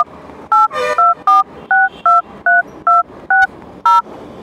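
Phone keypad tones dial a USSD call-forwarding code, about nine clear, evenly paced beeps close up, one after another with brief gaps and no talk.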